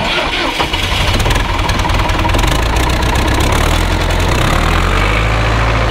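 A spare farm tractor engine cranks and fires, then settles into a loud, close, rumbling idle that runs steadily to the end, with no talking over it.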